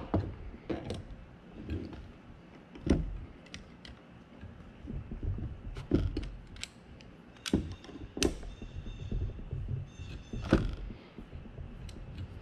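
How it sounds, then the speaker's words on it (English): Wrenches, an 11mm and a 14mm, loosen the stock fitting on a Harbor Freight Holt automatic air grease gun, giving a run of sharp metallic clicks, clanks and scrapes at close range with no talk. "I'm going to take the fitting that it came with off, which requires an 11mm and a 14mm wrench."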